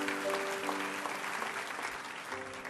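A crowd at a church sermon claps steadily and loudly for a few seconds, with a faint tone of music held underneath.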